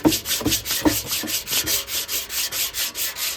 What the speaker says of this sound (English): This is where it's important for you when you use your scraper to like feather thin at the edges